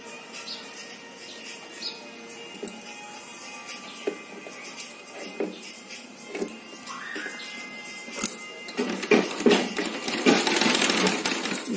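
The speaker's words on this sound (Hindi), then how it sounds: "इस प्रकार पूरी राउंड सिलाई कीजिए चुन्नट डालते हुए जिसे अस्तर बनाएंगे।" A sewing machine runs a gathered round seam on a potli bag lining, its stitching heard as a soft, uneven mechanical whir with light clicks that gets louder and busier toward the end.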